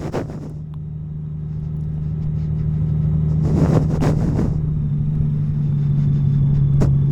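A motorcycle engine rumbles steadily while riding, a low, continuous drone that grows slightly louder, with brief bursts of wind or road noise over it and no voices.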